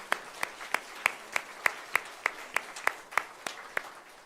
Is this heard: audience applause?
yes